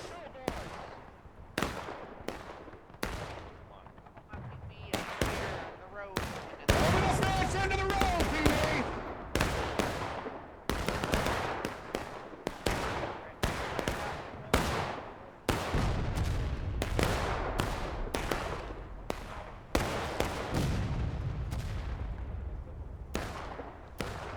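Musket volleys and booming artillery from a War of Rights battle at Bloody Lane, Antietam, crack in dense, irregular bursts for the whole stretch, some near and sharp, others distant, with a voice speaking over the gunfight.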